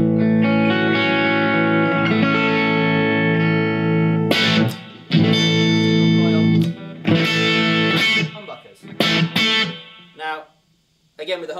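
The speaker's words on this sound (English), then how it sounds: "I can go to a bridge humbucker with more output, and the amp again reacts to that harder pushed, more output" An electric guitar played through a bridge humbucker into a Blackstar ID Core amp rings out in driven, effects-heavy chords and riffs, loud and close, with sustained stretches broken by choppy strums and short pauses.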